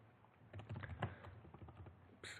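Fingers tapping out HTML code on a computer keyboard, a quick irregular run of soft close keystrokes with one firmer key press near the end, quiet and without speech.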